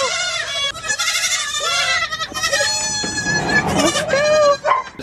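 Several baby goats on a goat farm bleat loudly and close up at feeding time, their high, wavering cries overlapping almost without pause, with a person talking briefly among them.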